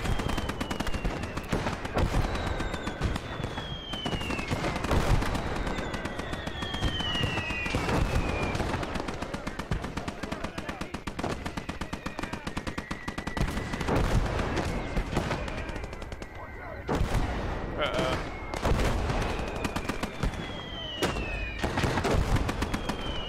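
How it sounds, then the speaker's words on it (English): Dense, nearly continuous gunfire in US Hardcore Conquest, with rapid bursts of shots over a loud battlefield backdrop and streaking whistles of passing projectiles, steady and close throughout. "Just gonna keep shooting,"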